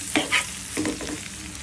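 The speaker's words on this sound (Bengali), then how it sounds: "এই যে একবারে ভাজা ভাজা করছি।" Vegetables fry in a pan with a steady sizzle as a spatula scrapes and stirs in a few quick strokes, close and short, with no voices.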